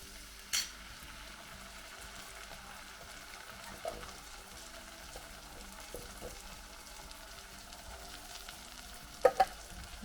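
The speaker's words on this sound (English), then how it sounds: "And give that a stir." Onion and garlic sizzle softly in a pan as tomato sauce is stirred in for patatas bravas, a steady low frying hiss with a few faint scrapes and clinks of the spoon against the pan.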